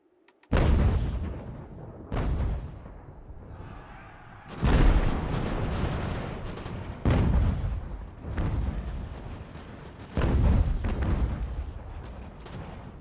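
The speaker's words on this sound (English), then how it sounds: "I think they just fire their canister." Cannon canister shots and artillery fire in Ultimate General: American Revolution, a series of deep booming blasts repeating every couple of seconds with rumbling decays between them, loud and close.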